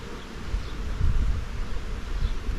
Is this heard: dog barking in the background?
no